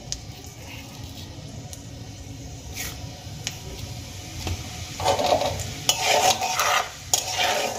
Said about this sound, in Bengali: এই তেলের মধ্যে আমি দিয়ে দেব সামান্য গোটা জিরে